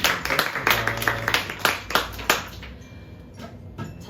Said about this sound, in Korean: 우선 우리 이번 KMBC에서 2등 하신 현민 선수를 위해서 박수 한번 크게 쳐주세요.